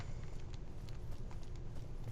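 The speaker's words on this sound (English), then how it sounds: "Some spirit in an overlapping dimension on a horse just crossed by." Hooves of a spirit's horse clip-clop past in a hellish video game landscape, a steady, fairly faint patter riding over a constant low rumbling ambience.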